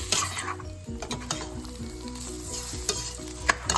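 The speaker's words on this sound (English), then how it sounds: "So that we're gonna stir it." A spoon stirs butternut squash soup with red lentils in a cooking pot, scraping and clinking over a steady sizzle, with a few sharper knocks against the pot.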